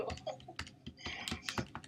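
Rapid, irregular typing on a computer keyboard, close by and fairly quiet, with clustered keystrokes and brief pauses between bursts.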